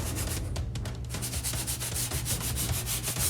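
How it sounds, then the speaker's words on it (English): Rhythmic back-and-forth rubbing of 120 grit sandpaper beveling the edge of a scratch-built tabletop miniature bunker, a steady close scratching with regular strokes and no talking. "I'm creating a very slight bevel onto the edge with the sandpaper"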